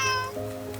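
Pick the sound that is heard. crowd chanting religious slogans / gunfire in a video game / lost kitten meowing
lost kitten meowing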